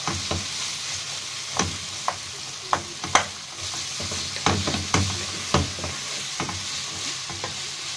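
Chopped onion and minced garlic fry in a pan for a baked potato tray dish, a steady close sizzle broken by repeated sharp scrapes and knocks of a spoon stirring, with no talk.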